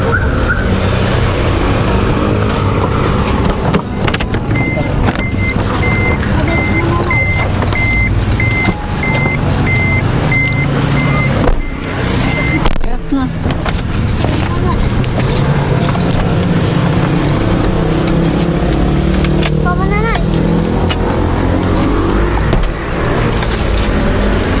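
A car drives along at steady speed, its engine and road rumble loud and constant throughout, with a repeating electronic beep pattern partway through and a few brief chirping tones near the end.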